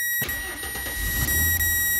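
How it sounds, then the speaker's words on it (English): A 1998 Ford F-150 cranks and catches after a brief quiet moment, the engine rumbling up to a close, steady running note that stays low and loud. "So if I start the car"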